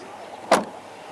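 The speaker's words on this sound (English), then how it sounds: "All right, Mr. Matthew, I'm close the door, okay?" A car door shuts once with a short, solid thud at a roadside police stop, heard mid-distance over a steady low background hum.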